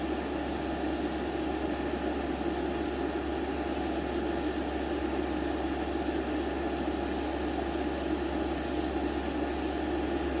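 An airbrush hisses tint paint onto a test spoon for model car glass, a steady quiet spray over constant compressor hum, with short regular bursts of air about once a second.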